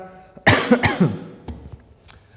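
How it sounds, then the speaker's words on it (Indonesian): A person coughs up close, a harsh burst followed by a couple of smaller hacks and a faint throat noise trailing off. "batuk."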